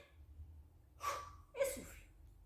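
A person draws a short breath and then a second during an upper-body toning exercise in a fitness class, two quick soft breath sounds close to the mic over a low background hum.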